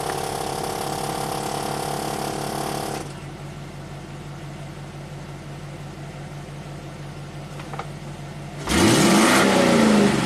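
A brake booster pump on a 2002 GMC W4500 V8 dump truck runs with a steady mechanical whir and ratcheting buzz for about three seconds. It then cuts off to a quiet hum before a louder engine or motor noise swells near the end.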